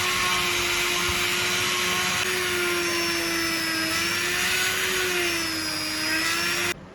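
An Aegon mini rotary grinder whines at high speed while grinding and cleaning an edge, a loud, close, steady buzzing tone with slight pitch wavering, running continuously before abruptly cutting off.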